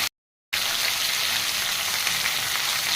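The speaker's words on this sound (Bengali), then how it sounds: "এর মধ্যে এবার একটু দেবো পেঁয়াজ রসুন আদা বাটা।" Onion, garlic and ginger paste frying in a pan makes a dense, continuous sizzle close by after a brief silent gap, loud and even throughout with no talking.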